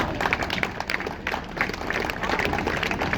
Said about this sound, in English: So a round of applause for guide dogs as well.